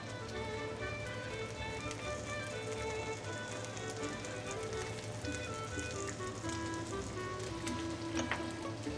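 Meat frying in a pan sizzles steadily, a dense crackling hiss with a constant low hum underneath, close and continuous with no talking.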